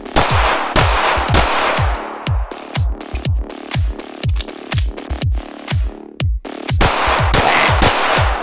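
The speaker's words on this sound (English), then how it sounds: "I just want to shoot some circles, see what I can get in" Rifle shots from an LWRCi IC A5 10.5-inch rifle crack out in quick groups of sharp, loud reports, about two dozen in all with brief pauses between strings, close and alone without talk.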